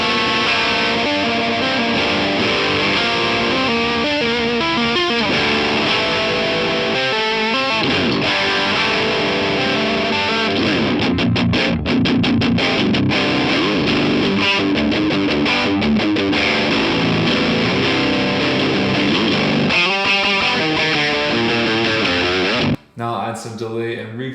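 A baritone guitar plays through an overdrive pedal at mid-to-high gain, with gain near 2 o'clock, producing a thick, saturated riff of sustained chords and chugging, heavy low notes that runs continuously and loud before cutting off near the end.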